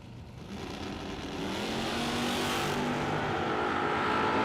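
Drag racing cars, one of them a Corvette, idling and building revs at the start line of a spring drag race event, a loud rising engine roar that swells steadily and holds near.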